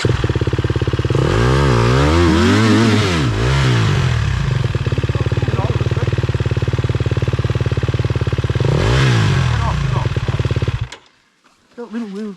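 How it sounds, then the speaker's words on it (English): A dirt bike engine revs hard on a trail ride, loud and close, its pitch climbing and falling in repeated throttle blips over a steady rumble before cutting off near the end, with a voice speaking over it. "Pull your clutch in, Nathan."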